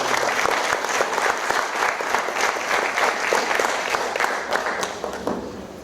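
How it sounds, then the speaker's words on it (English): Theatre audience applauding at the Chandler Theatre during a mono acting festival, dense sustained clapping from many hands that stays strong and tapers slightly at the end. "So a big round of applause please for"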